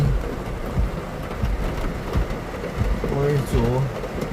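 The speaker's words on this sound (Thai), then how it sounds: "บรรยากาศในเมืองในตัวเมือง ฝนตกโคบๆเลย" Heavy evening rain falls in a Thai town, a steady broadband hiss throughout, with someone speaking loudly over it near the end.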